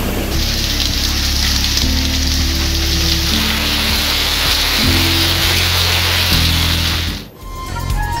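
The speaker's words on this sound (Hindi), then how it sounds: "सिंध और पंजाब के बेशतर शहरों में बादल बरस पड़े।" Steady rain falling across cities in Sindh and Punjab, a dense continuous hiss with low rumbling underneath that runs for most of the stretch, then briefly dips and cuts out near the end.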